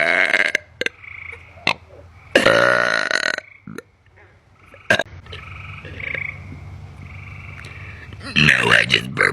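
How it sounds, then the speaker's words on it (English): A person lets out a series of loud, close burps, several long croaking belches and some shorter ones separated by pauses, with people talking in between. "I just burp really loud."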